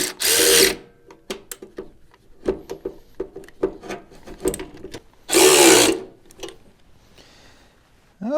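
A ratchet tightens a Super A fast hitch in close, irregular bursts of clicking, broken by two louder, longer noisy stretches and short pauses.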